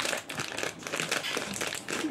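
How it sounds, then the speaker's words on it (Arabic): A plastic bag of pasta crinkles and rustles close by as it is handled over a pot of boiling water, a brief soft crackling run with no talk. "نضيف لها كيس المكرونة."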